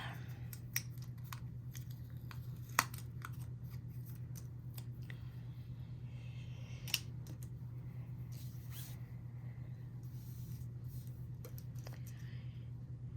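Scissors snip through paper to cut out a pot shape for a folded craft card, a series of quiet, sparse crisp clicks and cuts over a low steady hum.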